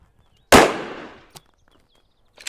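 One loud close gunshot rings out with a long decaying echo, followed by a faint metallic click and a few distant small sounds, from a rifle loaded with a five-round magazine at a firing line.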